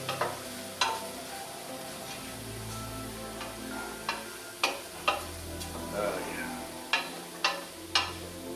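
Garlic frying in a large pot at the start of a pork soup, a steady close sizzle broken by sharp clicks and taps of a utensil against the pot.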